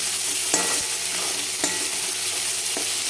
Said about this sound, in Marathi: तर आता त्याला पण आपण परतून घेणार आहे